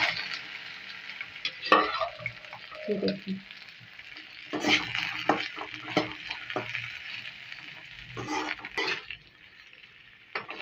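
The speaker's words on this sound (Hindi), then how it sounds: "ये देखिए जब तक भिंडी फ्राई होती है" Okra frying in ghee in a kadai for masala bhindi: a bubbling sizzle with bursts of stirring, clattering utensils and scraping, fairly close, spread over several seconds.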